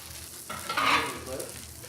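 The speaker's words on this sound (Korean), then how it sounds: "제가 살짝 소스를 데울게요." Sauce warming in a pan on the stove during home cooking of okonomiyaki and seafood soft-tofu stew, with a close, soft sizzle and the scrape of stirring that swells briefly in the middle, with no talking.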